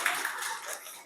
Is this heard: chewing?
no